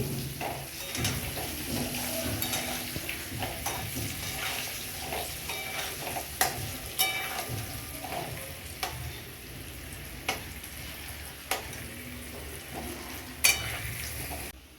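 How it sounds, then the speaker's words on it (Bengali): Potatoes frying in hot oil in a wok, a steady sizzle running throughout with occasional louder clacks of a utensil stirring and scraping the pan. "আলুটা ভেজে নিচ্ছি"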